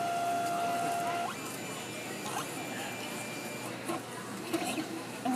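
A Stamp2Cut cutting machine hums and whirs as material is loaded, with a rising motor tone that then settles into a low mechanical drone and light clicks, heard close and fairly quiet.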